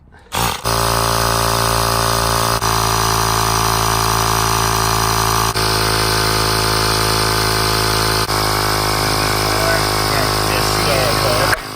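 An air compressor inflates an electric Onewheel board's tire to seat the bead, running as a loud, steady, humming drone that holds nearly unchanged for about eleven seconds after a sudden start.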